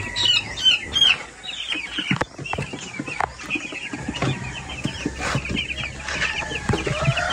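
Grown chicks, now young chickens, cluck and cheep in a busy flock close by, with scattered higher calls and scuffling over a low background hum, no speech.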